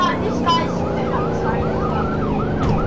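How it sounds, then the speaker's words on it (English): Wailing emergency vehicle sirens from the Roblox game Greenville, sweeping up and down continuously over steady traffic and engine noise, loud and close throughout. "Sirens!"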